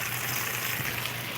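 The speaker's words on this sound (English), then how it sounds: "and now it's all draining down there" Water draining hard through a bell siphon fitted with a 1-inch uniseal, a dense continuous gushing rush filling the short moment with no pause.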